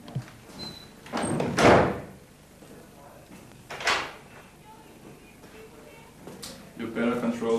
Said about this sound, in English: Shut that door, man.